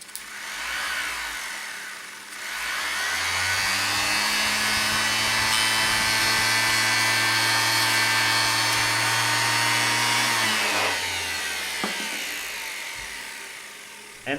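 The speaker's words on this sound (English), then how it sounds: "let us test the universal motor with 24 volts DC from these two lead-acid" A small universal motor running on 24 volts DC from lead-acid batteries spins up, whines steadily for several seconds at a loud, constant pitch, then winds down and stops.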